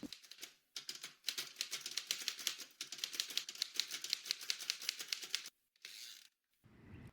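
Rapid, steady clacking of typewriter keys, with brief pauses between bursts and a short carriage-type sound near the end, close and alone.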